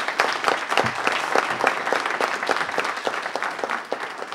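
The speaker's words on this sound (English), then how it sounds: "Please give her a round of applause." Steady applause from an audience at a city council meeting, filling the room continuously with dense clapping for several seconds, no speech over it.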